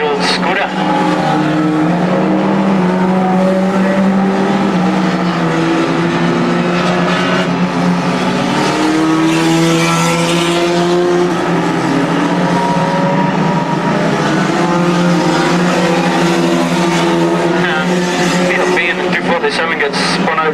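Stock cars racing at Crimond, including an old Skoda, engines roaring loud and continuous from start to finish, with a commentator talking over them.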